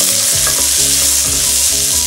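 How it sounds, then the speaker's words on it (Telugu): Mustard seeds and cumin sizzle in hot oil for a Bangalore brinjal and chow chow curry, a loud steady frying hiss close by, broken by a few soft stirring scrapes. "ఇప్పుడు కొద్దిగా ఆయిల్ వేసుకొని దానిలో వేడెక్కిన తర్వాత ఆవాలు, జీలకర్ర వేసుకోవాలి."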